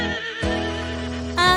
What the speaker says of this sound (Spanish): Hago como el caballo